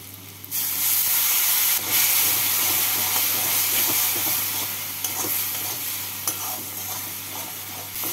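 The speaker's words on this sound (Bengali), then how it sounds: "অল্প জল দিয়ে মশলাটাকে কষিয়ে নিচ্ছি।" A spice paste of turmeric, ground cumin, green chili paste, ginger paste and a little water fries loudly in a pan, a dense hissing sizzle with steady stirring scrapes that run the whole time.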